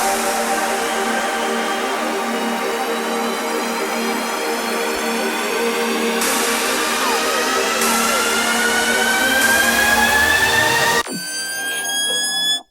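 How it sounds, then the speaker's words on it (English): Uplifter and riser effects in an electronic music remix: a long, loud, steadily rising synthetic sweep that builds in layered steps, then cuts off sharply into a brief bright tail, with no talking. "Then for the effects, it's a bunch of different uplifters,"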